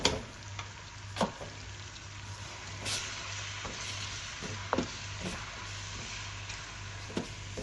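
Onions sizzling in a pan while cooking for an aloo matar curry: a soft, steady frying hiss with scattered crackles and occasional stirring clicks, close but fairly quiet, with no talk.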